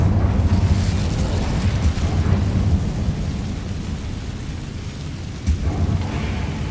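An Incendio fire spell is cast in Hogwarts Legacy, a dense, roaring rumble of flame and magic that fills the scene, steady and loud with a brief surge near the end, and no voices.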